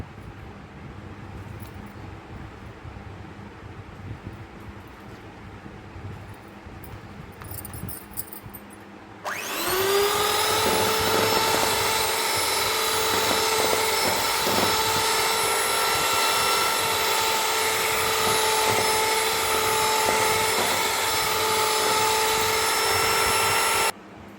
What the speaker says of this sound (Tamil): இப்போது இதில் கொஞ்சம் கொஞ்சமாக சுகர் ஆட் பண்ணி இதை நல்லா பல்ஸ் பண்ணி எடுத்துக்கலாம்